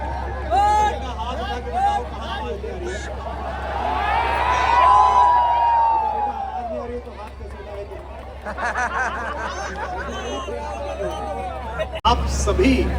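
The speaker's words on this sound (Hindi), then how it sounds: "बहुत अच्छी खासी भीड़ है" A large crowd at a music concert, a steady hubbub of many voices and chatter swelling and fading over a constant low rumble, with a brief burst of noise near the end.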